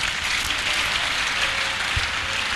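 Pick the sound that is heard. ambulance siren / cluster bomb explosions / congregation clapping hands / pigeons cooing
congregation clapping hands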